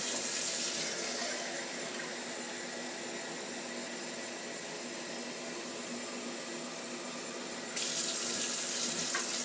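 Tap water runs steadily and loudly into a measuring cup, a constant rushing hiss, until the flow cuts off near the end.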